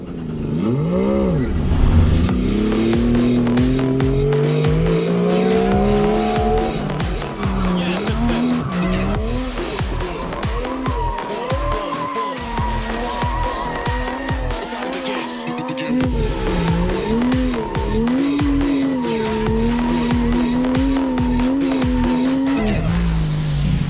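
A car drifts in continuous donuts, its tires squealing loudly in long wavering cries over a revving engine that rises and falls as the car circles, close and sustained throughout.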